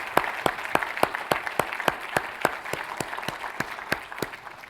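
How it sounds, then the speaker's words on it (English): A conference audience at a symposium gives a round of applause, a brisk run of evenly spaced, crisp claps that carries on steadily and fades slightly near the end. "So let's give General Corelli another big round of applause."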